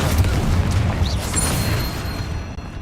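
Confringo spell explosion in Hogwarts Legacy on Xbox Series X: a loud, booming burst with a deep rumbling tail that fades over a couple of seconds, heard alone.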